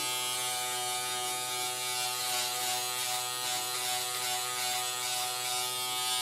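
A Remington F3 foil electric shaver hums continuously while shaving stubble, a steady, close buzzing drone with a slight rasp as the foil passes over the skin.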